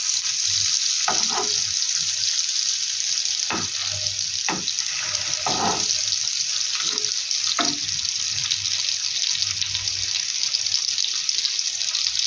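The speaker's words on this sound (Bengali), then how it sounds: "আমি বাটার আর তেল দুটো অ্যাড করে এটা ফ্রাই করছি।" Kebabs fry in a pan of butter and white oil over low heat, giving a steady soft sizzle with scattered sharper pops and scrapes, no voices.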